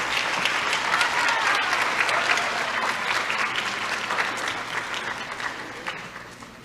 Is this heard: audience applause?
yes